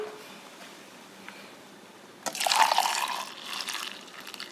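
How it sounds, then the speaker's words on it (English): Hot milk pours into a cup over a hot chocolate bomb, a short liquid splash and trickle starting abruptly after quiet room tone and continuing as a soft filling gurgle, close and moderately loud. "And then we'll pour the hot milk inside."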